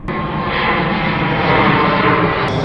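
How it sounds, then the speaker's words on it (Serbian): An Air Serbia airliner passes low overhead, its engine roar loud and sustained as a dense broadband rumble that fills the whole moment. "nikad nisi vidio ovako blizu avion da je letao"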